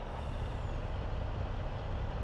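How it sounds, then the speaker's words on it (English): Heavy truck engine labouring uphill in Farming Simulator 22, a steady loud low rumble and drone that holds without a break. "I thought this truck would climb this hill."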